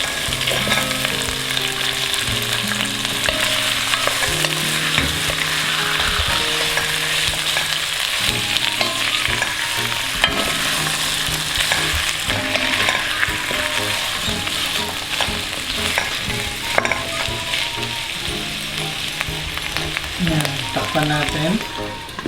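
Chicken feet fry in a pan for adobo with a strong, constant sizzle. Scattered clinks and scrapes sit underneath, and a low hum and faint background sounds run beneath it.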